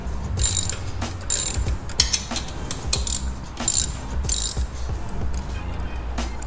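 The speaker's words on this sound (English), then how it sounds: "I'm gonna loosen up everything first, and then right at the end, I'll take them all off." A hand ratchet loosens exhaust bolts on a Harley-Davidson motorcycle, clicking in quick repeated bursts at close range with brief pauses between strokes.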